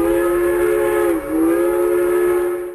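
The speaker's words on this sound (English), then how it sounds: "Train." A steam train whistle sounds one long, loud, steady blast, dipping briefly midway before holding again, with no other sound around it.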